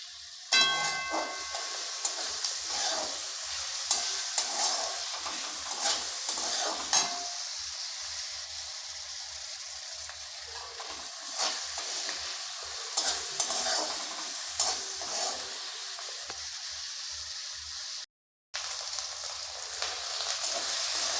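Onions frying with salt, ginger and slit green chillies in a pan for prawn malai curry, a steady close sizzle broken by repeated scraping stirs, with a brief dropout near the end.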